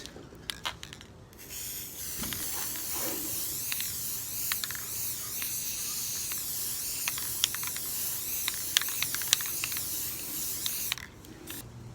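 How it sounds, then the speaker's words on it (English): Steady hissing spray from an aerosol can of silver spray paint coating a dollar-store charger plate runs for several seconds with short bursts and clicks, fairly close, ending in quiet. "spray paint it silver on the front side and go ahead and give this a nice coat"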